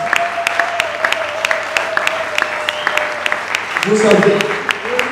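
A church congregation applauds in a steady patter of scattered claps while a man preaches over it in French.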